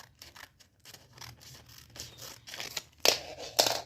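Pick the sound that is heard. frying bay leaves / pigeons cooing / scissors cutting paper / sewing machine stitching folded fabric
scissors cutting paper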